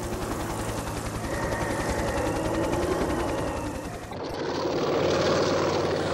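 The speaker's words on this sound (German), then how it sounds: "Endlich fliegen die ersten Hubschrauber der Armee." Army helicopters fly during the snowbound winter of 1978–79 on Rügen, giving a steady loud rotor and engine drone with rhythmic blade chop that shifts in tone partway through.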